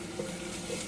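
Garlic frying in oil in a pan while making pan pizza, giving a steady, close sizzle with soft crackling throughout and no voices.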